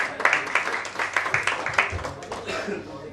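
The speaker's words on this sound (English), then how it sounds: "Let's clap for them." Audience applause at a live banking quiz semi-final, a dense spread of clapping with rhythmic peaks that holds steady for several seconds, with crowd voices mixed in.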